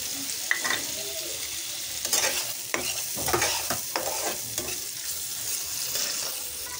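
Tomato frying with turmeric, coriander and chilli powders, garlic, ginger and cumin paste and a splash of water in a pan, a soft sizzle broken by repeated sharp spatula scrapes and clacks of stirring.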